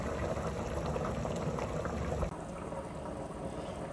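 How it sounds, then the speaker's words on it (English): Wild game stew bubbles at a vigorous boil in a pot, a dense continuous roiling gurgle up close that drops slightly in intensity partway through. "we got a boil going on."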